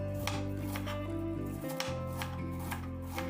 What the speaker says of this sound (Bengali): বাঁধাকপিগুলোকে সমস্ত কুচিয়ে নেব।